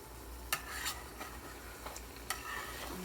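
Food frying in hot vegetable oil or lard, a soft, steady sizzle with a few sharp utensil clinks, fairly quiet and without talk.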